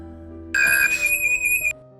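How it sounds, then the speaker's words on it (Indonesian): A house alarm sounds loudly in a game scene, a sharp high electronic tone starting abruptly and holding for about a second before cutting off. "alarm rumah berbunyi dengan kencang, membuat Kyle langsung terbangun"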